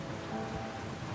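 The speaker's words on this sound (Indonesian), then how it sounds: "Di tengah hujan deras" Heavy rain pours steadily in a film scene, a dense, even hiss with no other sounds standing out.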